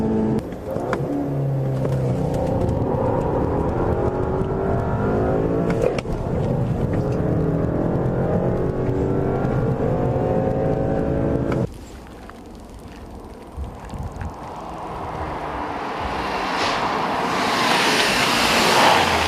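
Volkswagen CC accelerating hard as its turbo spools up, heard from inside as a loud, steady engine drone climbing in pitch through the gears, with one gear change partway through and wind and road noise rising afterward.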